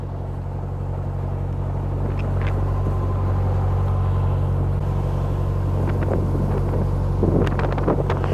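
A narrowboat motors along an English canal. A steady low engine drone and hum runs throughout with wind rumble over the microphone and a few faint knocks near the end.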